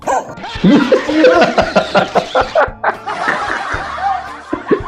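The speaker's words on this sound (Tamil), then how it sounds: "இந்த ரெண்டு நாயும் எதையோ பார்த்து பயங்கரமா குலைச்சிருக்கு" Two dogs bark fiercely at something in short, sharp bursts, mixed with laughter-like snickering sounds throughout.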